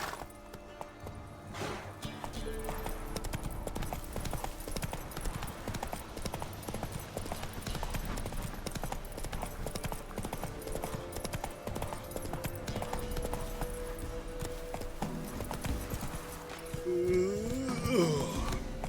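Roach the horse galloping in The Witcher 3, a steady rapid clip-clop of hooves carrying on throughout over game ambience, with a brief neigh or whinny near the end.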